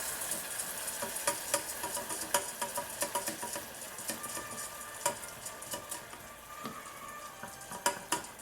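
White wine hisses and crackles in a hot pan with rice for beef risotto. A dense, fairly quiet sizzle is broken by frequent sharp pops and light scraping from stirring.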